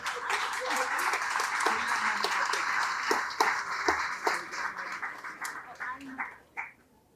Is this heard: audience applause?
yes